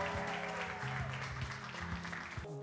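An audience at a church ministry's art gallery gala claps for the runway walkers, steady applause with music playing underneath throughout.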